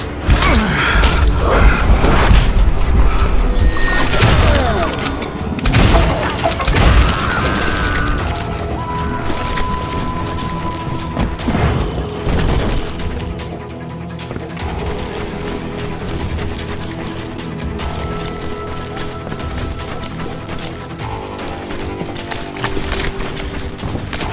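Western shootout in Call of Juarez, with loud volleys of gunfire and clattering mechanical action over a dense, busy game soundscape that stays steady throughout.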